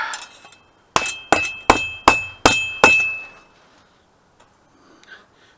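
A hammer strikes the back of a hand-forged draw knife six times in a steady rhythm, each blow a sharp, ringing metallic clink that decays quickly, close and loud against a quiet workshop.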